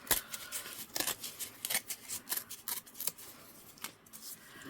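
A piece of junk mail paper is torn off by hand in a series of short, crisp rips and rustles, close up and fairly quiet, with no talking.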